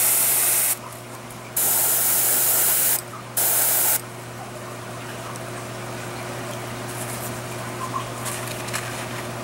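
An airbrush sprays paint on an Ashardalon miniature in three loud hissing bursts of about a second each, followed by a quieter steady air hiss.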